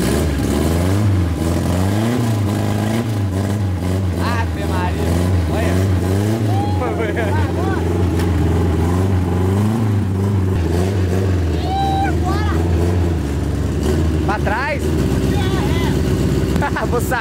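A broken-down Chevrolet Chevette engine starts and revs loudly as the car pulls away, its steady mid-pitched drone varying with throttle under continuous overlapping talk from several people.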